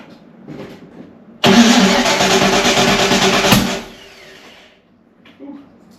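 Car engine on a Clevo, cranked after a distributor timing adjustment, bursting into a loud roar for about two seconds before dying away, close and alone with faint sounds around it.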